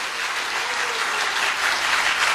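Applause from an audience at a Seoul screening and forum event, a dense, steady wash of many hands clapping together, continuous and fairly loud for the whole short stretch with no voices over it.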